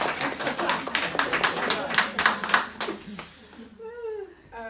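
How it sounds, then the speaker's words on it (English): Applause from an audience at a women's leadership event, a few seconds of steady clapping that fades out before a speaker begins talking. "A round of applause, please."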